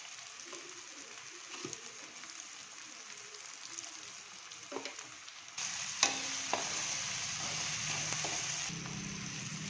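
Tomatoes with turmeric and salt fry in a hot pan, a steady sizzle with scraping stir strokes that grows louder and brighter partway through, no talking.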